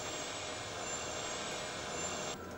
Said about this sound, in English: Those engines sure ain't at full power.